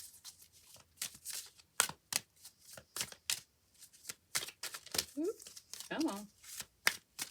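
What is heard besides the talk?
shuffling tarot cards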